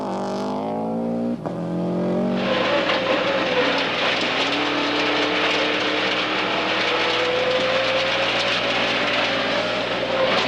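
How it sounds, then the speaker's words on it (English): A Subaru rally car on a forest stage, its engine rising sharply to a loud sustained roar as it accelerates past close by, with a steady whine under it. "No problems at all for the leading team. Tom McGear, his Subaru, running perfectly."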